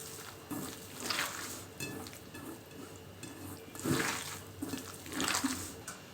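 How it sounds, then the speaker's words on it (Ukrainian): Water trickling and splashing as soaked bread is squeezed out by hand for a pork mince filling, a few close wet bursts separated by quieter gaps, no voices. "Вижимаю водичку"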